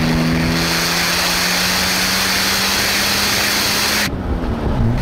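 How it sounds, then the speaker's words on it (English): A Kougar Sports Jaguar kit car's 4.2 litre straight six with twin SU carburettors, a loud, close, sustained engine roar with steady rasping tone that drops off sharply near the end. "And it makes a lot of noise."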